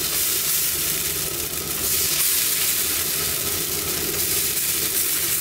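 Chita pitha rice batter sizzles on a hot pan, a loud, steady hiss and crackle of frying that holds evenly throughout with no voices.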